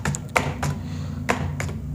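Typing on a computer keyboard while writing a Gmail account recovery message: a few scattered key taps over a steady low background hum, close and quiet.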